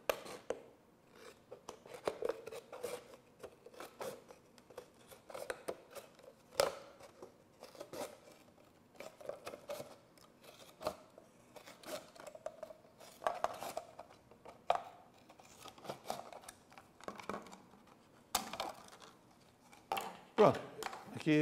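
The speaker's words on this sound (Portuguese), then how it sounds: "Tesoura, cortando no sentido anti-horário." Scissors snip through material in a counterclockwise path while building a model rocket, producing a series of short, crisp cuts at an uneven rhythm, close by and moderately quiet, with a person talking over much of it.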